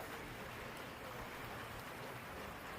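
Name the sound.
rain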